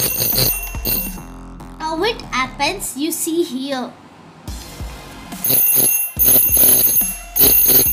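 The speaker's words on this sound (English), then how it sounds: "If earthquake comes, see the bell starts to ring and the light turn on." A homemade earthquake alarm science model, a wooden plank with a hanging copper wire that touches a metal circle, rings its electric bell in rapid, loud bursts while a person talks between rings.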